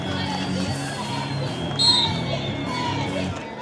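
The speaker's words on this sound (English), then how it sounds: "Oh, the crowd's getting louder" A crowd at a Saturday night roller derby in Las Vegas makes a steady, fairly loud roar of cheering and babble, with a brief whistle-like whoop swelling up midway.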